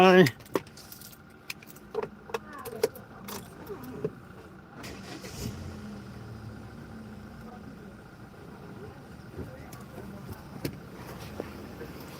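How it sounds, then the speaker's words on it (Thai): Car keys jangle in a few sharp bursts near the start, followed by a car engine that starts and settles into a steady low idle, with faint voices in the background. "สตาร์ทรถไว้ก่อนพี่น้อง"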